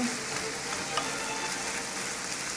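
Ground pork with onion and chili pepper sizzles in a pan, a steady, close hiss of frying with faint stirring scrapes and no talking.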